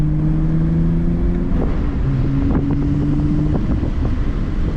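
A BMW E90 328i cruises a rough back road, its engine drone blending with constant wind rush and tire rumble, with a few bumps and knocks from the uneven surface.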